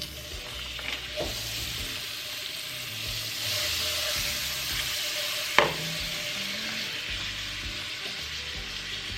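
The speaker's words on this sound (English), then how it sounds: "So I'm going to add the butter into the pot, and we're going to fry the garlic a little bit." Garlic fries in melted butter in a pot, a steady soft sizzle running throughout, with an occasional scrape or tap of a spoon as it is stirred.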